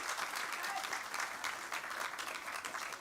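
Audience at a cultural heritage symposium gives a steady round of applause, a dense patter of many hands clapping evenly throughout at moderate distance.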